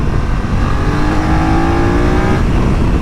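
A 2025 BMW F900R motorcycle engine blips and then pulls hard in acceleration, its rising revs loud and close under heavy wind roar, climbing steadily before easing off near the end.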